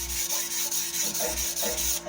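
A knife drawn across a 1000 grit sharpening stone, a close, continuous rasping rub in rhythmic back-and-forth strokes with brief dips between passes.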